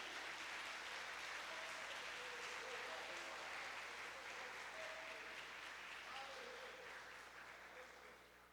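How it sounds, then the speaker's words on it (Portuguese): A church congregation applauding during a Portuguese-language sermon, a dense, steady wash of clapping heard from a distance that holds for several seconds and then fades out. "Você pode aplaudir ao Senhor em nome de Jesus?"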